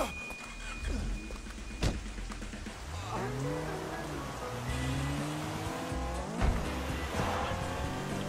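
Car driving in the video game Sleeping Dogs, its engine revving up and down in rising and falling sweeps with occasional tire squeals over a wet, rain-like hiss, moderately quiet and steady.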